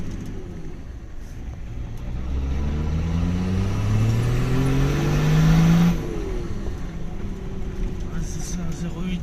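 A turbocharged Nissan Patrol engine revs up, its tone rising steadily to a peak and then dropping back to idle, heard close with people talking over it.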